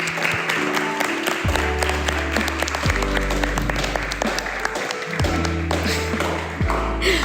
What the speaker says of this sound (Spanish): le damos un fuerte aplauso a las invitadas